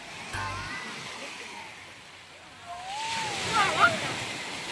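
Surf washing onto a sandy beach on the coast of General Nakar, Quezon Province, a steady wash of waves that swells toward the end, with a voice and other voices calling over it.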